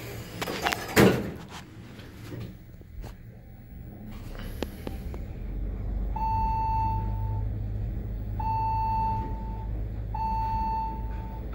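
An Otis elevator at the Hilton Anatole in Dallas closes its door with a thud, followed by a steady low hum and three repeated beep tones in a quiet cab.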